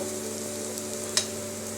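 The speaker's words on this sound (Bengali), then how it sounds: "এবার আমরা পেঁয়াজটাকে খুব ভালো করে ভেজে নেব" Onions frying in a pan for potato kachori filling, a steady close sizzle with a steady low hum and one brief scrape or clink partway through.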